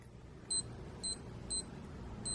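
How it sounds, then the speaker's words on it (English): Four short high-pitched electronic beeps from a counterfeit Casio digital wristwatch, evenly spaced about half a second apart, clear and close over a quiet background. "If I try the beep on this one,"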